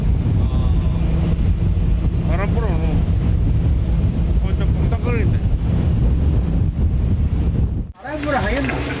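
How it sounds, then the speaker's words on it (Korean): Strong wind buffets a Busan fishing boat at sea, a loud continuous rushing roar over a low engine drone, with faint voices calling out briefly before a short gust break near the end. "뿐만 아니라 바람까지 세게 불어닥친다."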